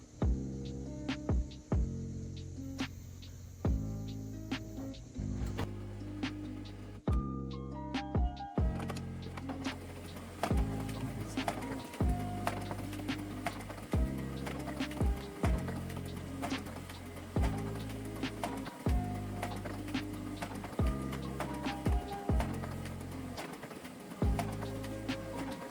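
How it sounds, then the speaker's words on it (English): An HP LaserJet Pro MFP M227fdw mono laser printer runs continuously, pushing out page after page with a steady mechanical hum and regular rhythmic clunks from the paper feed, close and alone. "We'll have the printer push out as many pages as it can in 1 minute."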